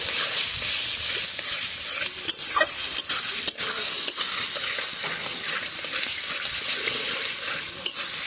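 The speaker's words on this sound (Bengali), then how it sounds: "এবার এটা খুব ভালো করে কষাবো।" Egg curry masala of ground garlic, onion and chilli paste sizzles steadily in a pan, loud and close, with occasional scrapes and knocks of the stirring spoon.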